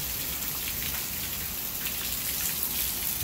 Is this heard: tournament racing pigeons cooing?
no